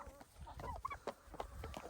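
A gold laced rooster clucking, several short low calls at close range, fairly quiet against a faint background.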